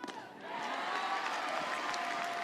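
Crowd at an NCAA college softball game between Alabama and Middle Tennessee cheering and applauding steadily, a broad wash of clapping and shouts from the stands that swells early and holds loud throughout.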